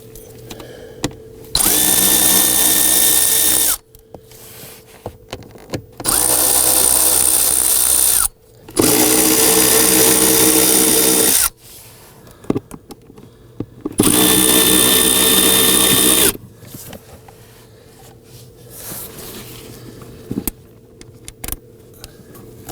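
Power drill whirring in three long bursts of about two to three seconds each, driving out cover screws to reach the cabin air filter of a 2001-2009 Volvo S60, with small clinks and handling noises between the runs.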